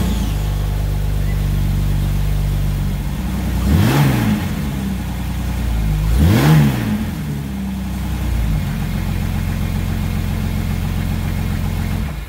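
2000 Jeep Cherokee XJ with new NGK spark plugs, engine idling loud and close, rising in two distinct revs before settling back to a steady idle.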